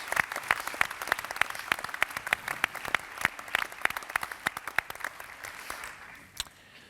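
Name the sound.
audience applause in a theatre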